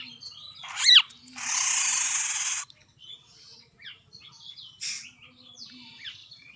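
A myna bird gives sharp, high calls and chirps close by, with one long harsh screech in the middle and scattered quieter calls after it.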